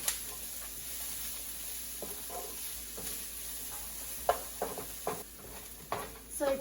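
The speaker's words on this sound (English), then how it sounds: "Saute it until mildly golden brown." Ginger, garlic and onions sautéing in a pan toward mildly crispy golden brown: a steady soft sizzle runs throughout, broken by light spoon scrapes and clicks against the pan.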